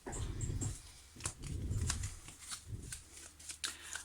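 Tarot cards are shuffled by hand, a run of soft papery riffles with a few sharper flicks as cards spring loose from the deck, close and fairly quiet.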